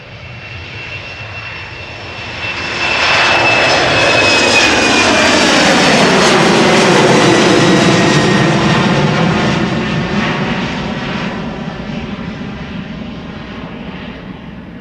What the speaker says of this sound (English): The next airplane coming our way is going to Stavanger, KLM Flight 1199, Embraer 190.